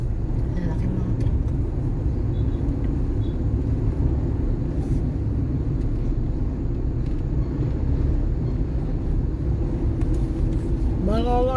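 Large cargo trucks rumble along a busy road beneath the Skyway extension at Quirino, Manila, a constant heavy low engine drone with traffic noise that builds slightly near the end.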